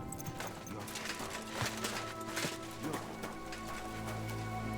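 Horse hooves clip-clop steadily in Kingdom Come: Deliverance II, a close, even walking rhythm with a few louder footfalls over a constant low game ambience, without talk.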